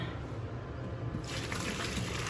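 Water boiled with beef feet pours and splashes steadily, growing brighter and more rushing partway through as the flow increases, close by with no talking.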